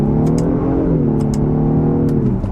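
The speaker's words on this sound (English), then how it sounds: "you can hear when I pull the paddle and when it actually starts changing RPM there" Engine of a 2025 Genesis G80 3.5T Sport sedan rising and settling in RPM as the paddle shifter is pulled, a steady loud close drone with shifting harmonics and faint clicks over it, no talk.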